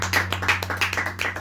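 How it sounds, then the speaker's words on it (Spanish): A church congregation claps together in a quick, rhythmic burst of handclaps that sounds close and lively over a low steady hum. "Dale un fuerte aplauso para él."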